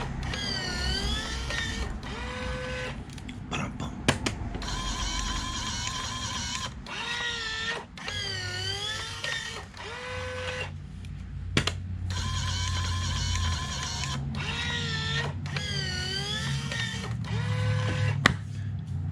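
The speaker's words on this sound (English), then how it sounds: "we're going to stop the cigarette making right there" Hand-cranked cigarette making machine rolling homemade cigarettes, giving repeated mechanical whirring and clicking cycles in a steady rhythm, close and fairly loud, with no talking.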